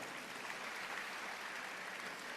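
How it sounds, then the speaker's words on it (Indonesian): Congregation at a church service in Graha Bethany Nginden applauds steadily, a soft, even wash of clapping lasting a couple of seconds, with no voices standing out. "Berikan tepuk tangan yang meriah"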